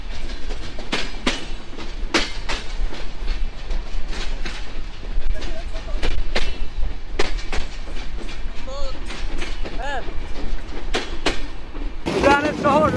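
Kapotaksha Express intercity train running from Rajshahi to Khulna behind a 66-series locomotive, with steady loud rumble and repeated sharp clickety-clack rail joint clacks throughout, ending in a brief burst of other noise.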